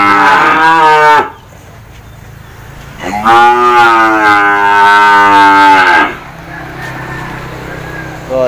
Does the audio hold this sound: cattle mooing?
yes